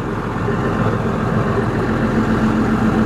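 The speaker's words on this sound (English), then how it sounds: "Motorhome runs great." Diesel engine of a 2000 Fleetwood Discovery 37G Class A motorhome idling steadily with a low, even rumble, close and continuous with no talk.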